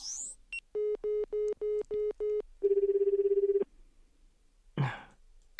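Phone call being placed in the Dramatical Murder visual novel: six evenly spaced electronic beeps, then a longer buzzing ring tone, followed by a brief cough-like noise, close and clear.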